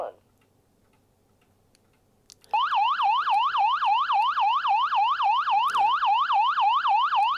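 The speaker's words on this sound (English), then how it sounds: "That's your alarm." A two-way radio sounds its alarm after near silence, a loud warbling electronic tone rising and falling in rapid even cycles and repeating without a break.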